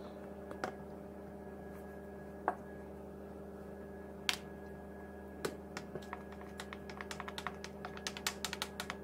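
Small sharp ticks as drops of food colouring fall into filled cupcake cases, sparse at first then quickening into a rapid scattered patter, faint and close over a low steady hum.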